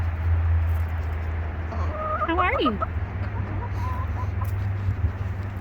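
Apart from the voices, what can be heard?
chickens clucking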